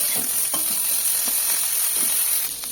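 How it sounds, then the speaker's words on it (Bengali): Cauliflower florets fry in hot white oil in a wok with a bright, steady sizzle, punctuated by several soft scrapes and knocks of a spatula turning the pieces, close by and without speech. "তেলটা গরম হতে দিয়ে দিলাম ফুলকপিগুলো।"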